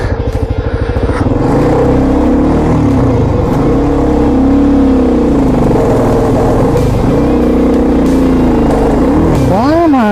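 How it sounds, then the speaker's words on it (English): A motorcycle ridden on a Southern Ohio adventure loop with its gears grinding: a continuous loud engine drone under wind rush, wavering in pitch and then revving sharply upward at the end. "Why am I fucking grinding gears? That is not good."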